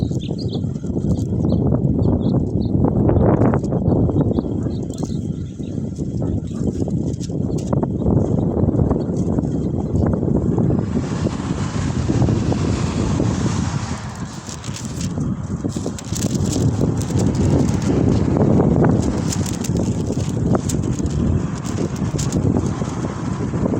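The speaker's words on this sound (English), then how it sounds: "It's a little windy day," Gusting wind buffets the microphone outdoors in San Pedro, California, a loud continuous rumble with faint birds and street sounds behind it throughout.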